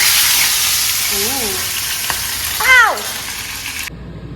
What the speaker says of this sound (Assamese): এয়া তেল গৰম হৈছে এতিয়া মাছটো ফ্ৰাই কৰিব দিম